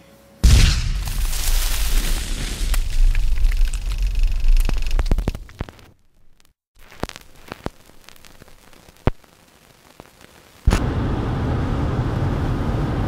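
A large cartoon-style explosion set off by a lemon and chewing gum: a sudden loud blast and roar that rumbles for several seconds, drops to a quieter stretch with scattered cracks, then a second heavy roaring burst.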